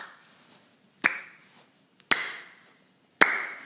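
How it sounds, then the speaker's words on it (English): Three sharp, evenly spaced hand claps close by in a quiet room, each a crisp single slap with a short decay. "I always clap my hands at the end."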